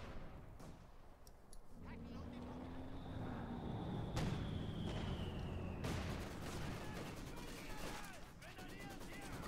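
Gunfire and artillery in a Company of Heroes 2 match, a dense battle din of shots and blasts heard faintly under a commentator's continuous talk.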